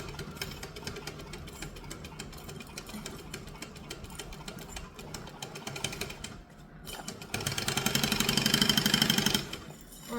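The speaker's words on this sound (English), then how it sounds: "we're going to just slowly stitch right next to the base stabilizer because that's our seam allowance" A sewing machine stitches a seam right alongside a base stabilizer, giving a steady close mechanical whirr and chatter that runs throughout and swells louder in a faster burst near the end.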